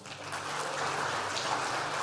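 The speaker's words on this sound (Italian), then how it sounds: "Facciamo un altro applauso" Applause from a congregation during a church service, a dense wash of clapping that swells and holds steady for a couple of seconds.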